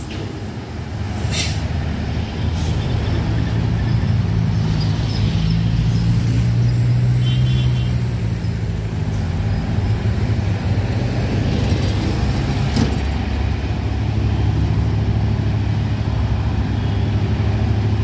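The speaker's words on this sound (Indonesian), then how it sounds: "truk ditarik ya dari bawah" Heavy truck being towed up a steep hill by a dump truck, a loud sustained low diesel drone with engine labour swelling and easing over the whole stretch, plus occasional hisses and clanks.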